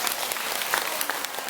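An audience at a lecture breaks into brief, steady applause, a dense wash of clapping heard close and fairly loud, with no speech over it.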